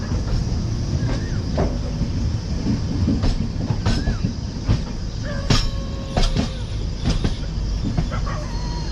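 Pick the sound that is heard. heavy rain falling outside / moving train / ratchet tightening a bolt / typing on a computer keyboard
moving train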